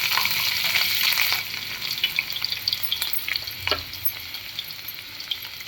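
Asafoetida, chilli and garlic dropped into hot oil as the base for a Bombil Kalwan fish curry give a loud, steady hiss that settles into a softer, crackling sizzle with light stirring scrapes, close up and with no talking.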